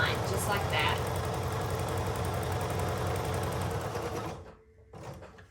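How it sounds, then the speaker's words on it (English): A sewing machine stitches along a marked line on fabric for a star decoration, its close, steady rapid whirring running for about four seconds before stopping abruptly, followed by a brief softer sound. "Sew directly on that line, just like that."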